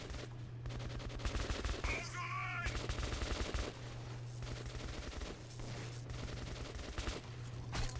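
Dense automatic gunfire from the video game Metro 2033 Redux, rapid bursts of shots over a steady low drone of game music and ambience, with brief gaps and a faint voice.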